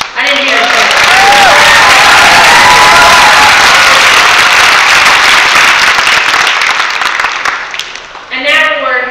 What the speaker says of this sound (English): So let me hear it a second time or third time here, a great round of applause.